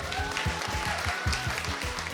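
A book concert audience applauds with a dense, steady patter of clapping over a rhythmic musical beat underneath.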